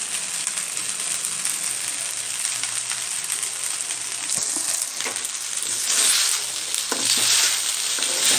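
Chicken pieces stir-frying in a pan with salt and pepper, a steady loud sizzle with scraping stirs and a few sharper clatters near the end.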